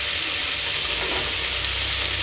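Potatoes and onions dropped into hot oil fry with a loud, steady, close sizzle and dense hiss that runs unbroken throughout, with no talking over it.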